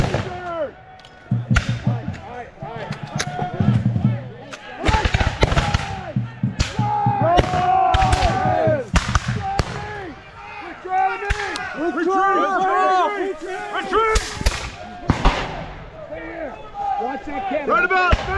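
Musket and cannon fire at a Revolutionary War battle re-enactment of Stono Ferry, with repeated sharp bangs scattered irregularly over shouted commands and crowd voices.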